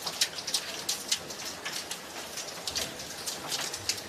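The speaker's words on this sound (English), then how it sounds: "This is really heavy rain and hail." Heavy rain mixed with hail pelting down over Sydney Harbour, a dense, steady hiss with sharper patters and pops scattered throughout, loud and close.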